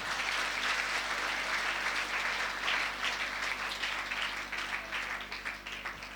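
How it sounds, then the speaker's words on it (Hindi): Applause from an audience at a girls' college debate competition, steady dense clapping that carries through the whole stretch and eases slightly toward the end, with no talking over it. "तो एक बार जोरदार तालियां इनके लिए बजाएं।"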